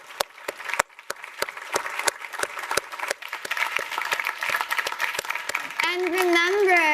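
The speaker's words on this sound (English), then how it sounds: "So another big round of applause for Haben." An audience at a LinkedIn speaker series event applauds Haben Girma, starting with a few distinct claps that quickly thicken into steady full applause, joined near the end by a voice speaking over it.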